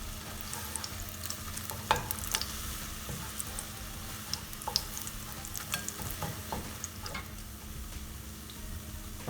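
A tortilla cooks slowly in a pan and gets pushed around it, giving a soft, low sizzle with light ticking and scraping taps throughout, quiet and without talk.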